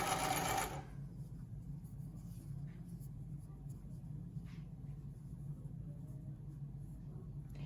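Faint, steady low hum of a sewing machine stitching a seam on a homemade COVID-19 fabric mask, continuous and quiet after a brief louder start, with soft background sounds throughout.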